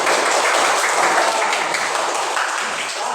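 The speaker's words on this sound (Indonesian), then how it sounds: "Iya, tepuk tangan." Applause from a classroom audience of students as a group steps forward to present, a dense steady patter of hands clapping at close range throughout, with no talk over it.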